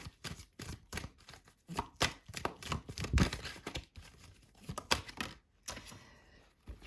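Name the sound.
handling and drawing cards from a deck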